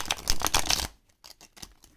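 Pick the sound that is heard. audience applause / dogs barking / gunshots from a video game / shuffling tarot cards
shuffling tarot cards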